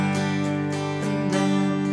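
Strummed chords on an acoustic guitar play the chorus of a song, with a handful of evenly spaced strokes ringing out close and clear.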